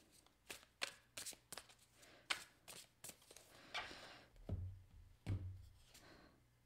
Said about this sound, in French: Je veux clarifier la carte de la mort.